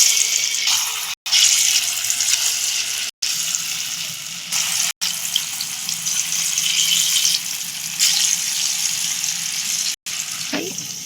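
Luchi dough made with palm fruit frying piece by piece in hot white oil, a steady broadband hiss and sizzle running continuously with brief dips, close and fairly loud with no talk.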